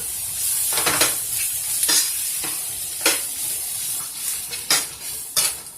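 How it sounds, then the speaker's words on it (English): Strained steak meat, about two pounds, sizzling in a pan with a hissing fry as a spoon scrapes and knocks against the pan in a string of irregular strokes, close and with no voices. "we're gonna add that strained meat in there. Stir it all together."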